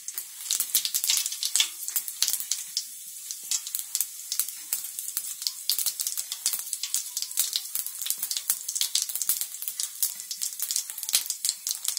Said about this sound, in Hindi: यह हमारा ऑयल गर्म हो चुका है। अब इसके अंदर हम जीरा डालेंगे।